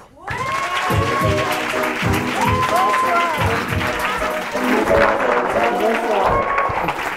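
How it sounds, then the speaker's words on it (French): A loud, dense round of applause fills the hall for a comedian's entrance, with cheering and excited voices layered throughout the crowd noise. "Je vous demande d'applaudir mademoiselle Bouchra Beno."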